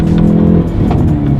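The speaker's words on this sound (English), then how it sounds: "Whenever you let off the gas, whenever you downshift, let's do it again" Exhaust note of a 2019 Hyundai Veloster on a rev-matched downshift, a loud, close, steady engine drone with a brief rise in pitch near the end.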